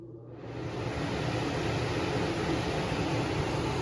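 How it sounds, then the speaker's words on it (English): A Lasko 4924 high velocity tower fan starts up on speed 3, its whoosh swelling within the first half second into a loud, steady rush of air that holds evenly throughout. "Now it is quite loud on this speed, but it's just moving a just crap ton of air."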